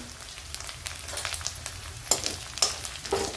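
Green chilli paste sautéing in a pan with a pinch of turmeric, a steady close sizzle with occasional sharper pops and stirring scrapes, no talk.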